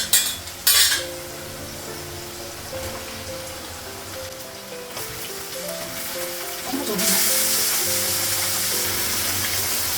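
Meat sizzles as it fries in a pan, a constant crackling hiss that swells much louder partway through, with a few sharp clinks at the start and soft tonal music underneath.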